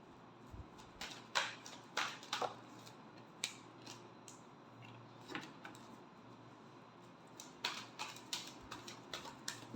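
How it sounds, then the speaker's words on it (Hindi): Tarot cards being shuffled by hand, with a series of soft, quick riffling snaps and flicks in irregular bursts, close but faint against a quiet room. "Last shuffle."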